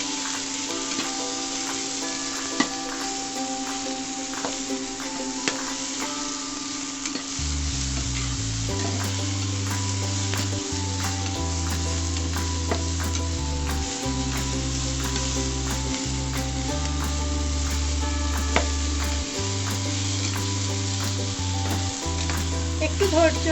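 Tomato hits a pan of onions and spices and sizzles steadily, a loud continuous frying hiss with a low rhythmic rumble of stirring joining in partway through, no voices.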